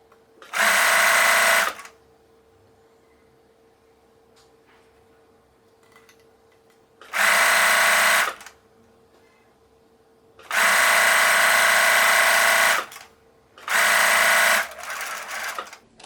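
A sewing machine stitches the folded neckband of a blouse with smocking, in four loud, steady bursts of whirring separated by quiet pauses, with no talking.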